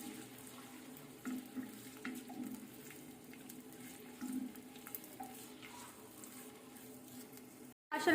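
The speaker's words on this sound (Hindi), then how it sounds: "अब माशाल्लाह ऑयल गर्म हो चुका है, इसमें प्याज ऐड करेंगे।" Chopped onions sizzle and fry in hot oil inside a clay pot while making Karachi-style matka chicken biryani, a steady soft crackle with occasional stirring and scraping, fairly faint and with no talking.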